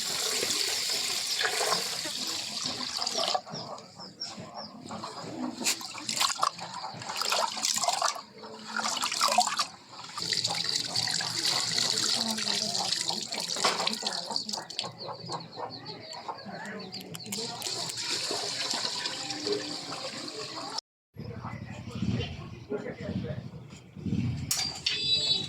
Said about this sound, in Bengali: চালটা এখন পানিতে ধুয়ে নেব।